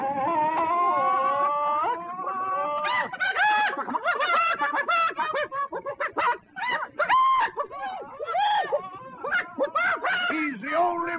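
A voice imitates a clucking chicken with wavering, warbling cries and short clucks in quick bursts, loud and close, on a 1938 film soundtrack.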